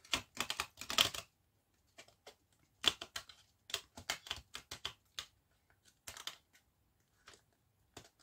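A tarot deck is handled, shuffled and cut, giving soft, crisp card riffles and flicks in irregular bursts with quiet pauses between them. The sound is close and fairly faint, with no speech over it.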